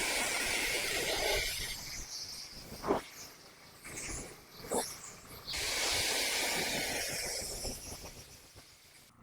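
Water spray rinses excess clay lubricant off a car's lower body panels during exterior detailing, a steady hiss that swells and fades in long passes with brief breaks between.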